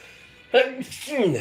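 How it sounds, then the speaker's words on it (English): A single sneeze from a man playing Yu-Gi-Oh! Duel Links, a sharp burst followed by a voiced exhale, close and fairly quiet with no words spoken. "Oh my goodness, I'm sneezing."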